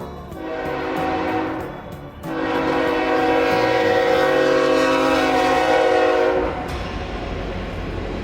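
Freight train 61V passes close by heading south near Rockmart, its horn blaring loudly in long sustained blasts, with a short break, over the rumble of the rail cars.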